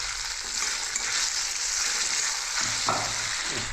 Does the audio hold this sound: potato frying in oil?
yes